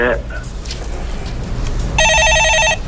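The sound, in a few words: telephone ringing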